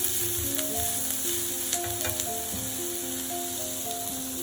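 One sliced green chili frying in a pan of hot oil for prawn curry, a steady close sizzle with light stirring and faint clinks, no voices.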